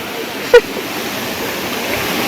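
Steady broadband rush of a waterfall in a hilly countryside spot where village kids bathe, a continuous wash of falling water with a brief sharp splash or shout near the start.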